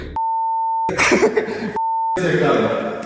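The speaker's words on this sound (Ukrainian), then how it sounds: "Не можна казати поганих слів, тому ми все це будемо пікати." Two steady censor bleeps, each under a second, alternate with bursts of muffled talk between and after them.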